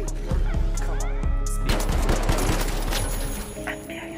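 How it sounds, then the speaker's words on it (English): Gunfire in the shooter game The Finals, dense overlapping rapid shots and bursts, loud and near, with game effects and a short voice underneath. "Nice shooting, Rexy."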